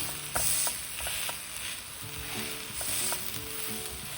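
Vegetable uttapam frying in oil on a pan over a low gas flame, a steady close sizzle and crackle running throughout with a few brief scraping stirs.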